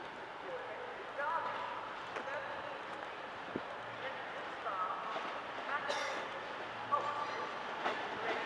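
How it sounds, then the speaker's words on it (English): A cross-country passenger train pulls into Sheffield station, giving a steady rolling rumble with occasional high brake squeals and faint station voices in the background. "Just about to pull in will be your 1221 cross-country service to Edinburgh."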